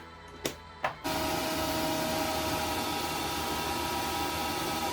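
A fan inside a Spirit Halloween Trick 'r Treat jack-o'-lantern blows fabric to fake flames. Two quick clicks come first, then the fan switches on into a loud, steady whirring roar with a faint tonal hum that runs to the end.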